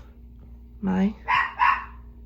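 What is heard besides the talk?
dog barking in the background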